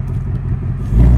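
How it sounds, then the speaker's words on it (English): A 2024 Ford Mustang Dark Horse exhaust rumbles low and deep at idle, then swells louder near the end as the engine revs up, close by. "I just can't get over that exhaust"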